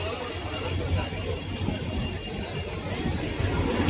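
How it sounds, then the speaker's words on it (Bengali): A passenger train pulls into Madgaon station in Goa on the way toward Dudhsagar Falls, a steady low rumble and rolling clatter filling the platform continuously under crowd noise. "চলে এসছে আমাদের ট্রেন।"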